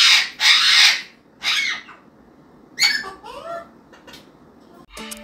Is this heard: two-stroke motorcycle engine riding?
no